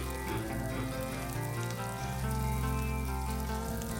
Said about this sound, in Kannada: ಚೆನ್ನಾಗಿ ಎಣ್ಣೆಯಲ್ಲಿ ಫ್ರೈ ಮಾಡ್ಕೊಳ್ಬೇಕು. ಇವಾಗ ಉದ್ದಕ್ಕೆ ಹೆಚ್ಚಿದ 2 ಈರುಳ್ಳಿನ ಹಾಕ್ಕೊಳ್ತೀನಿ